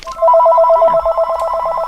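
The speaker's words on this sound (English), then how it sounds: "Let me answer the phone." A telephone rings loudly and close, with a rapid warbling electronic trill sounding for under two seconds.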